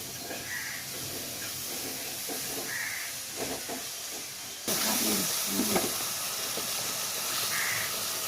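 Tomatoes sauté in hot oil for a fish curry with a continuous close sizzle and hiss, broken by light stirring scrapes, growing louder partway through.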